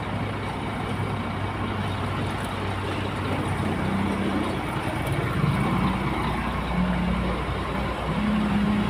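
A motor tricycle passes along a road near a Howo 420 truck, its engine making a loud continuous rumble with shifting low drone and traffic noise, no talk.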